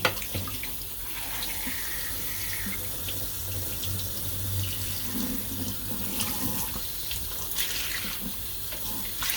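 A tap runs warm water steadily, splashing continuously into a sink at close range for several seconds, with no voices.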